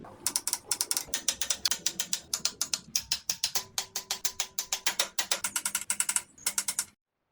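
Steady ratchet clicking while bolts are tightened on the crossover pipe of a Land Rover LR4 SDV6 diesel engine under rebuild, fitted with new OEM gaskets; close, dense bursts of rapid pawl clicks with brief pauses between strokes.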